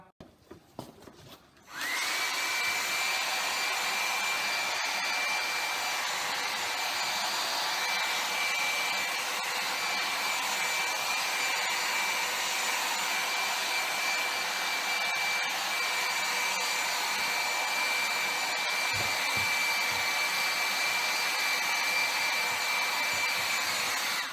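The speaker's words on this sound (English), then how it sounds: "just to show you that I actually am using a hair dryer to dry it" A hair dryer switches on after a brief rustle and then blows steadily with a loud, constant whine, drying paint on metal, running without a break for the rest of the clip.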